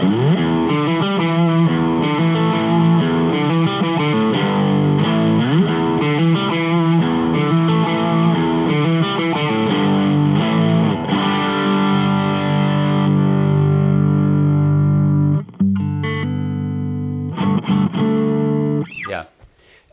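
Electric guitar through a Browne Amplification ATOM Nashville Overdrive pedal plays a crunchy, rhythmic chord pattern with sustained gritty tones, closing with a few scattered notes and string noise.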